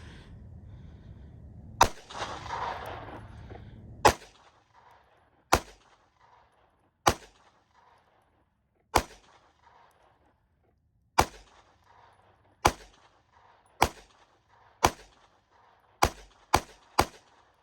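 A Palmetto State Armory Micro Dagger pistol fires about a dozen sharp, close gunshots, irregularly spaced at first and then in a quicker string near the end, with near silence between shots.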